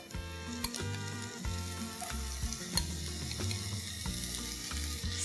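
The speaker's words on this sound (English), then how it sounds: "And now back to the frying pan. I'm going to add 1 tomato that's also been finely chopped." Finely chopped tomato sautés in a frying pan for an egg masala dish, giving a dense, steady sizzle with repeated scraping and knocking as it is stirred, close and fairly loud.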